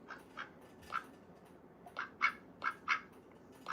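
A grey pet duck named Olivia Gray quacking in a series of short, sassy squawks, about eight calls spaced irregularly, close and fairly clear over quiet background.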